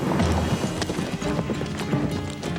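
Horse hooves clip-clopping in an animated cartoon episode: a loud, close, rapid run of hoof knocks in an uneven galloping rhythm over a faint background, with no talk.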